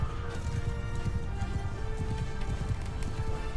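Horse hooves in Mount & Blade II: Bannerlord pound in a fast, continuous gallop, dense and fairly loud, with game sounds layered on top and no talking.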